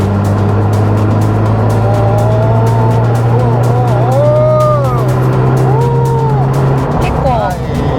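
Mazda RX-7 FD3S Type R Bathurst R rotary engine idles steadily, then is blipped through several smooth rising and falling revs, close and loud, while people talk over it.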